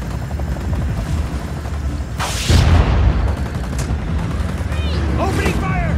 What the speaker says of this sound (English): Chopper's gunning for us, Rico.